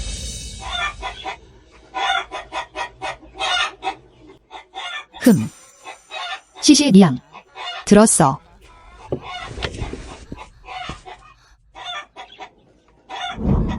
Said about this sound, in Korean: 살아있는 수탉이었어요